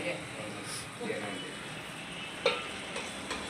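Tomatoes and onions frying in a pan, a steady moderate sizzle with a few sharp clinks of stirring, while a person talks over it.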